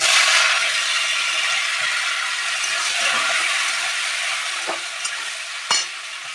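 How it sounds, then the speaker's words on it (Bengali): Chopped onions frying in a pan over an asafoetida tempering hiss loudly and steadily up close, easing a little toward the end, where a few light clinks of a utensil stirring break through. "পেঁয়াজ ভালো করে ভাজা হওয়ার জন্য অল্প চিনি দেবো।"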